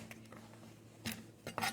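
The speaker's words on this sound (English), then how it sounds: "I'm just chopping now the second half of the sweet potato" A knife chopping sweet potato on a board: light scattered taps, then a few sharper clustered knocks near the end, quiet and close with a faint hum behind.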